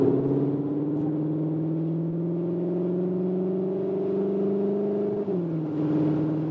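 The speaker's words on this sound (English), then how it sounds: "we go to the Cupra mode and accelerate out here" A 2021 CUPRA Leon Sportstourer e-HYBRID in Cupra mode accelerates through a tunnel, its engine drone rising steadily in pitch for about five seconds before a brief dip as it shifts, loud and close from inside.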